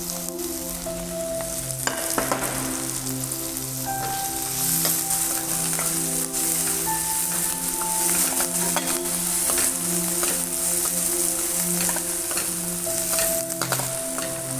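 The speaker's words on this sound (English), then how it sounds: "cook the onions till they are slightly brown in color." Chopped onions frying in a pan, a steady close sizzle that runs throughout, with occasional stirring scrapes and light clinks on top.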